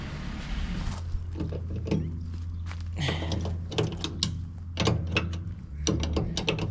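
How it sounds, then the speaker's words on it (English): On an ERF EC truck with a Cummins engine, a ratchet is cranked by hand on a 19mm fitting during a fuel tank restoration, giving close, repeated clicking strokes over a steady low hum. "Crank that up by hand."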